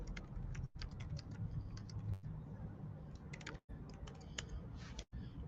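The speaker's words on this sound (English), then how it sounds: "Let me type something in the chat just a moment." Rapid, irregular clicks of typing on a computer keyboard, steady and fairly close, with a few brief pauses and no talking.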